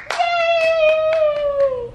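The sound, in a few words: child clapping hands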